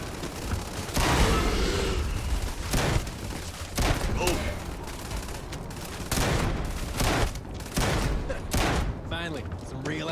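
Shotgun blasts in Starfield ring out in a string of loud, sharp bursts spaced a second or two apart, with talk heard between and under the shots.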